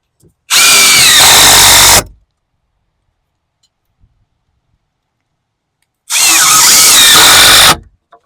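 A power drill drives GRK structural screws into wooden 2x4s during porch post-and-beam construction. Two loud, steady whirring bursts of about one and a half seconds each are separated by a few seconds of silence.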